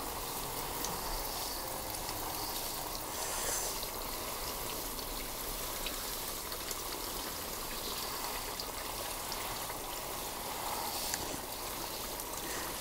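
Shower-style spray of water falls steadily over potted Dendrobium orchid seedlings, a continuous close hiss and patter that runs unbroken for the whole stretch with no talk.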